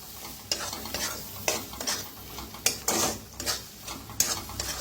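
Eggplant and potato curry with curd fries gently over a low flame while a spoon stirs it. Soft scraping strokes come at an irregular rhythm over a quiet sizzle, with no voices.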